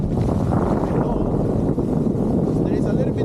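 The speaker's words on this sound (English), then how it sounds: "There is a little bit of wind" Wind buffeting the microphone while skiing, a steady loud low rumble throughout with a person talking over it.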